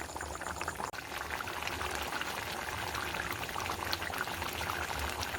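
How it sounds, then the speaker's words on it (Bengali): Chicken curry with spinach boiling in a kadai, a soft continuous bubbling and simmering with a faint clink near the start, close and quiet, no talking. "এদিকে মাংসের তরকারি ফুটছে"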